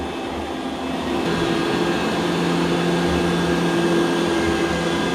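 Dreame L20 Ultra robot vacuum mop running, a steady whooshing motor drone with a faint tonal whine, rising slightly after the first second and then holding level, close by.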